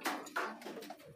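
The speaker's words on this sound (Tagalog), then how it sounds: "ito na yung mga kalapati natin na mga good vibes" Pigeons give a few soft, low coos, faint and close, in a quiet space with no talk.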